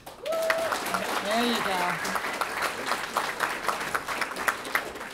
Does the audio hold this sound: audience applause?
yes